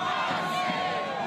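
Rally crowd of more than 5,000 union marchers in Toronto, a dense roar of voices and chanting heard at a distance, steady and unbroken for a moment.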